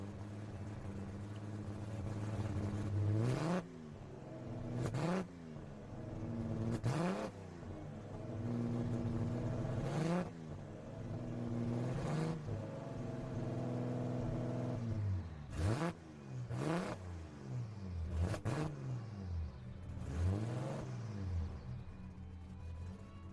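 Engine of a 1974 Toyota Land Cruiser FJ40B in the Gran Turismo 7 video game, revving repeatedly through rising and falling sweeps, with gear changes breaking the drone into several surges.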